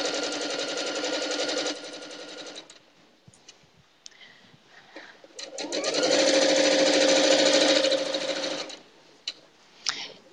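A sewing machine stitching a quilt runs in two fast whirring bursts, with quieter handling clicks and ticks in the pause between them, close and loud.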